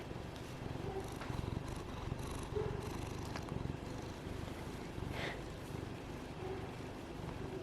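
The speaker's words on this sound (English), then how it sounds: "He's purring. Can you hear him?" A cat purrs close by in a steady, soft, rhythmic rumble that pulses with each breath, continuing quietly throughout.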